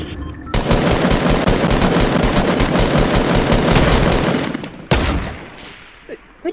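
Rapid automatic gunfire in the video game Fortnite rattles on loudly for about four seconds. It ends with one sharp final shot and a fading tail.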